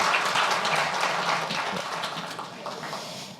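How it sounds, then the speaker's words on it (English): A conference audience applauds a plenary panel, clapping strongest at the start and gradually thinning and fading toward the end. "a big round of applause for the spectacular panel"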